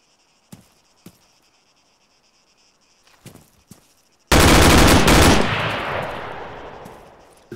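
Video game gunfire: a few faint clicks and taps, then a sudden loud, sustained burst of rapid automatic shots that slowly fades into a lingering echoing tail.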